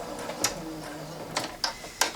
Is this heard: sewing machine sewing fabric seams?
yes